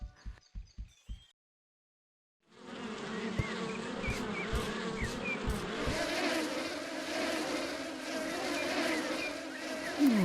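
Bees buzz loudly and steadily in a Winnie the Pooh video game, a dense droning hum that swells in after a few soft taps and a short silence, then carries on to the end.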